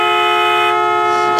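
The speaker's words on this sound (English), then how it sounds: "this is how it honks" A single sustained electronic horn tone from a child's ride-on toy car, bright and steady for over a second at close range, with no talking.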